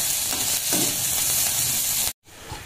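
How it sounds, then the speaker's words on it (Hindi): Onion and khukhdi mushrooms fry in a kadhai with a steady, loud broadband sizzle and a few stirring scrapes, cutting briefly to silence near the end before the sizzle resumes. "कुकड़ी डल गया है इस कढ़ाई में, अब इसको भूंजा जाएगा कुछ समय"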